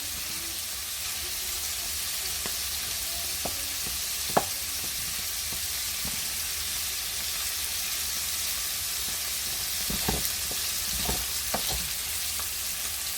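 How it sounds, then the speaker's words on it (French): Vegetables and sausages fry gently with garlic in a pan, a constant close hiss of sizzling with scattered small clicks and taps of a utensil turning the pieces. "faut laisser cuire ça gentiment, notamment pour les saucisses"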